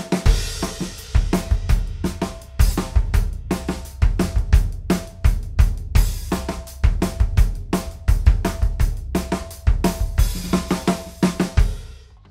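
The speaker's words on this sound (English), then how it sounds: "And this is what they sound like on the kick drum." Kick drum fitted with a controlled-sound pre-damped bass drum head, heard within a full drum kit groove: steady punchy low thumps repeating throughout alongside cymbals and snare, loud and close.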